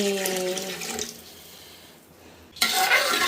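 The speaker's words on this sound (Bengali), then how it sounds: "এখন এর মধ্যে দিয়ে দিচ্ছি পানি" Water pouring into a pot, a gushing stream that stops after a second, a quiet pause, then pouring resumes loudly near the end.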